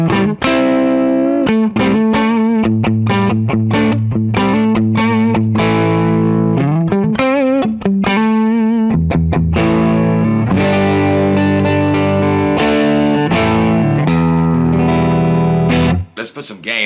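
A budget Slash-model Les Paul played on its neck pickup through a Rat distortion pedal, loud and saturated, with chords and single-note riffs ringing out alone and sustaining throughout.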